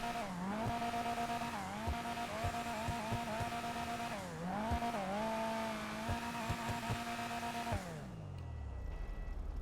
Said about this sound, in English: let's go ahead and rev up the engine and do that sound test